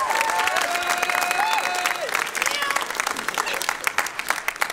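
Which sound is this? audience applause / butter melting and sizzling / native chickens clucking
audience applause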